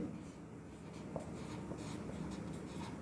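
A pen scratches across paper while a maths solution for an HCF and LCM problem is written out, soft continuous scribbling with faint room noise and no talking.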